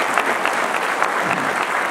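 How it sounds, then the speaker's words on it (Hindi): A crowd at a devotional poetry recital applauds, producing a brief, loud and continuous burst of clapping with no voices over it. "आप लोग फिर से तालियां बजा सकते हैं"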